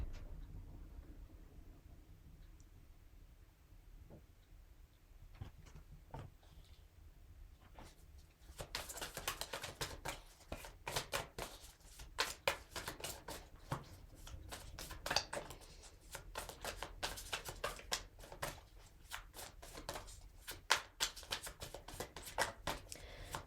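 Tarot cards being shuffled, a quiet start followed by a steady run of soft, rapid riffling and flicking clicks up close, with no talking.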